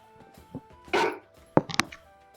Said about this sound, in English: My dog was making noise